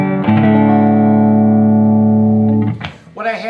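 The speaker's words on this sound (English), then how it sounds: "Here is a 1968 Gibson Firebird" A single sustained chord from a 1968 Gibson Firebird electric guitar rings out loud through an amplifier with no reverb, holding for a couple of seconds before cutting off as a voice begins.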